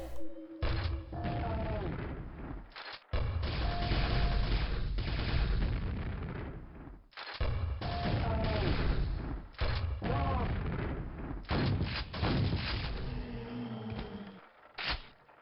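Rapid nail gun fire at ogres in a Quake mod shooter, loud sustained bursts of mechanical shots broken by short pauses, with game impact noises and someone talking over parts.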